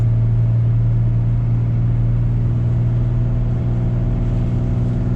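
A vehicle engine drones loudly and steadily as it shifts up into fourth gear on a hilly road during an ice storm, a constant low hum with no other sounds over it.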